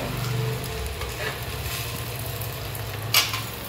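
Food fries and sizzles in a pan, a steady crackling hiss under a low background hum, with a brief sharp scrape near the end.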